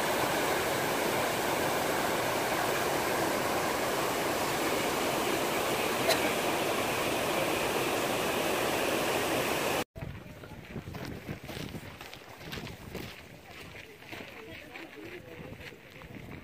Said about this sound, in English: Our first waterfall in Iceland.